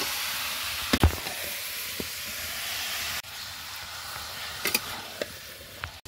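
Meat and ginger frying in spice masala in a pan, a soft steady sizzle with occasional clinks and stirring knocks, close but fairly quiet.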